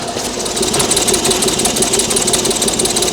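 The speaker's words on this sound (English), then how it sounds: "you can hear it purring the exhaust" A Range Rover SVR gives a loud, steady engine idle with a rapid rhythmic burble from the exhaust, close by and continuous.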